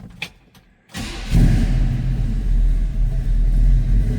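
A 1969 Chevrolet C10 pickup cold-starts: a couple of faint clicks, then the starter cranks briefly and the engine catches into a loud, steady low rumble that holds at idle to the end.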